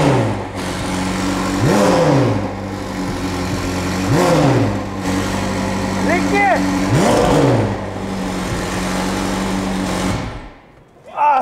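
A car engine on a 930 starting indoors and revving, with several rising and falling revs over a loud steady idle, close and roaring before cutting off at the end; people speak over it.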